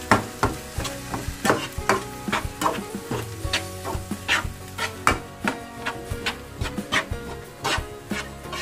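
Cup noodle fried rice is stirred in a sizzling pan, the utensil scraping and clacking in a quick, steady rhythm over a continuous frying hiss, close and distinct, with no talking.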